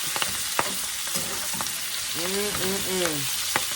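Collard greens fry with bacon and onions in a pan, giving a steady sizzle broken by scraping stirs and a few clanks of the utensil against the pan, with no voices.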